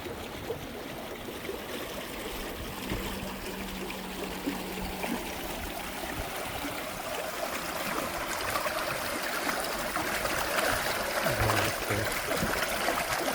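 Steady flowing water runs throughout, a continuous broadband rush that builds slightly louder toward the end, with no voices.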